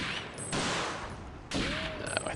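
Gunfire in TimeSplitters comes as two bursts of rapid, dense automatic shots, loud and close, separated by a brief break.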